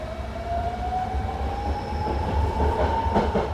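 A BART train rolls past with a steady rumbling roar and a rising wheel squeal, clattering faintly as it goes, with no talk over it.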